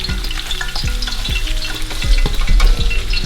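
White onions sauté loudly in a pan, with a dense sizzle broken by repeated scraping stirs and clacks of a utensil against the pan that grow stronger toward the end, and no voices.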